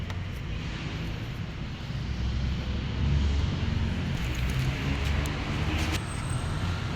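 A Honda Wave 100 motorcycle engine runs with fresh oil added after a flush, a steady low rumble holding evenly throughout, close and continuous with no voices.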